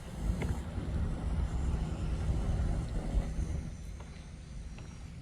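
Piper light aircraft flying near an airport in Okeechobee County, a steady, moderately distant propeller-engine drone with wind noise that holds fairly even throughout.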